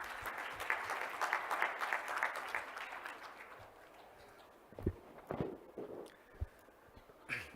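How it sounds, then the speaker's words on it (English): Audience at the 19th IFI Summit applauds the chief guest, the Managing Director of SIDBI, with a dense burst of clapping that fades after a few seconds into scattered claps and shuffling. The sound is fairly quiet and distant. "Let's give him a warm round of applause."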